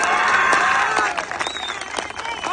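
A seated crowd at a political rally breaks into loud, dense clapping with some cheering; a voice is briefly heard at the start.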